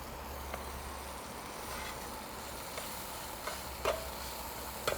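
Butter with fresh garlic sizzling in a hot pan, a steady close hiss with small pops and ticks throughout and no talking.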